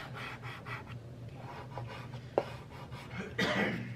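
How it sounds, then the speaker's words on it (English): Vinyl being scraped off a Dollar Tree sign, a soft steady rasping rub under low background hum, with a few sharper scratches near the end. "And just start scraping it, and then I'm gonna slowly start peeling it."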